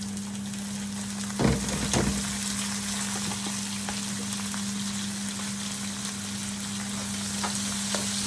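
Onions sizzle and fry steadily in a pan for Sri Lankan pasta, a continuous crackling hiss with a couple of louder stirring clatters early on, close and without talk.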